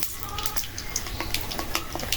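Potatoes frying in hot mustard oil in a heated pan give a soft, continuous sizzling hiss, fairly quiet and close, with no talking.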